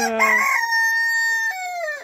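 A rooster crows loudly and close by, one long drawn-out call with a sharp opening note, among a flock of hens gathered on a ladder.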